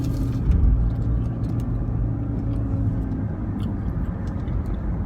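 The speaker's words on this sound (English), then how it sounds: "Sorry, we've got traffic here." Car traffic passing on a road, a steady low rumble of engines and tires close by that fills the whole stretch with no speech.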